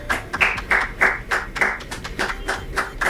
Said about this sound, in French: Allez, applaudissez pour elle.